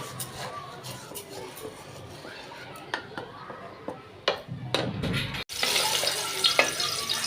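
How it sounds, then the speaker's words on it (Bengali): Mung dal fries with turmeric and chili in a pan, giving a steady close sizzle with scattered stirring clicks and scrapes that grow busier toward the end. "এখন আমি এগুলো ভেজে নিব সুন্দর করে হলুদ মরিচ দিয়ে এখন মুগ ডালগুলো ভেজে নিব"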